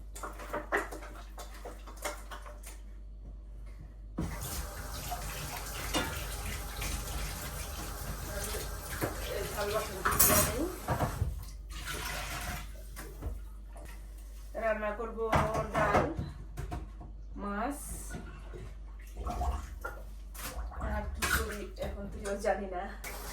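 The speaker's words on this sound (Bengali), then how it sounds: "এখন মাছটা ধুয়ে নেব পরিষ্কার করে" Hilsa fish being washed under running water in a sink or bowl, with splashing, trickling and occasional clinks of a pot, intermittent over a long stretch while a person talks.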